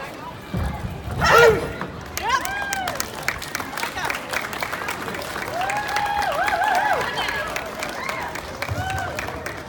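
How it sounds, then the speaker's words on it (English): An audience applauds and cheers for a demo team, clapping swelling into a sustained crowd roar while voices talk and call out over it. "One more round of applause for the demo team"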